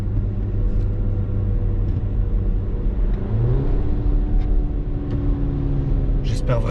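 An Audi Q3 engine is heard from inside the cabin while accelerating, a steady low rumble with a rising tone partway through, continuous and fairly close. A voice talks over it in places.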